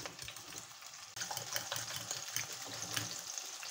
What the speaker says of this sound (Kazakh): Жылдам жақсылап бәрін араластырамыз.